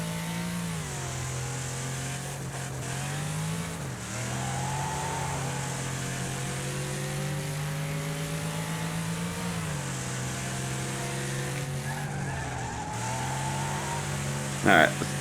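A race car engine drones steadily in Wreckfest during a six-lap race, its pitch rising and dipping through gear changes. Nearby engines join it and a brief sharp clunk comes near the end, while someone talks over the top.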